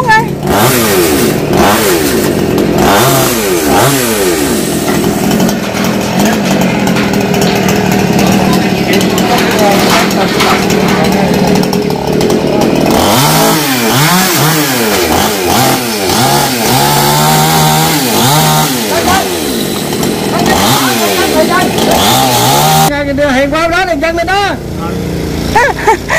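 A chainsaw cuts branches from a 500-year-old tamarind tree, its engine loud and close, revving and bogging repeatedly as it bites through wood, with voices talking over it.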